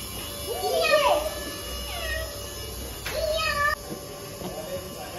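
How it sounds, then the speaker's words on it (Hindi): A cat meows several times, drawn-out rising and falling cries spread across the clip, with children's voices and background chatter underneath. "ये बिल्ली रोज 8:30 बजे आती है घर पे दूध पीने"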